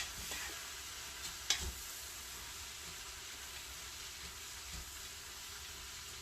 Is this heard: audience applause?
no